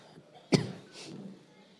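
A single sharp cough rings out clearly against a quiet room, followed by a faint murmur.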